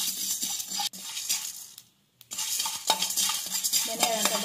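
Coriander seeds, cinnamon and cloves dry-fry in a pan while a spoon stirs them, giving repeated scraping and rustling strokes with a soft crackle. A short quiet gap breaks the stirring midway.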